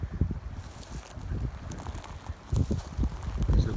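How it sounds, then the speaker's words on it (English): Gusts of wind buffet the microphone on the open shore of the Thames Estuary, low rumbling bursts rising and falling in quick irregular waves over a few seconds. "There's little blows of wind that have a bit of strength towards them"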